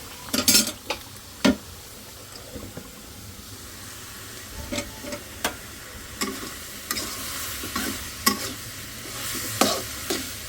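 Fish curry simmers in a pan as coriander leaves are stirred in: sharp, scattered scrapes and clinks of a utensil against the pan over a soft, steady low bubbling, close by and with no talk.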